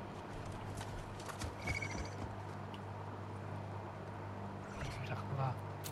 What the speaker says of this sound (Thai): เสียงเท้ามาแล้ว